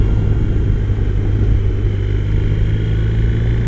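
BMW R 1250 RS motorcycle (2020) engine pulling away on a road, a loud, steady low rumble close by, with no talking.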